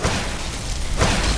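Area-damage spell explosion in Skyrim, a dense broadband blast with deep rumble, swelling again near the end of a short burst.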